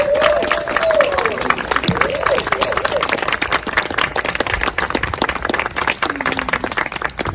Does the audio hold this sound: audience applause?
yes